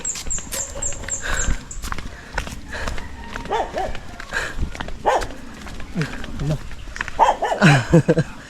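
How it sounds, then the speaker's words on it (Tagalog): A dog barks and yelps several times outdoors at a rural home, moderately near, mixed with movement, scuffling and people talking. "Ang tapang na rin aso."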